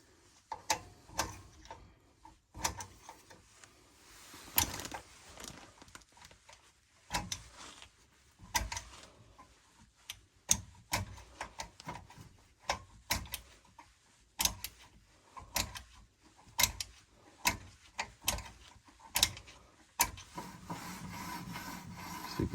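The rear handbrake shoe adjuster on a Porsche Boxster being wound down, repeated dry clicking and scraping ratchet sounds in a steady irregular rhythm, close and moderately loud, with the shoes grabbing.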